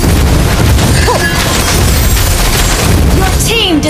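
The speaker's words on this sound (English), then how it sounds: "Your team destroyed a turret!" A turret is destroyed in Mobile Legends: Bang Bang ranked play, heard as a loud booming crash over dense game effects, with chirping and sweeping tones running through the steady noise.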